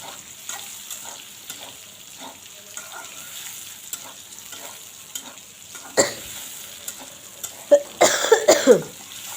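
Food fries in a pan at home, a soft steady sizzle with occasional stirring, then sharper crackles near the end, punctuated by a few nearby coughs.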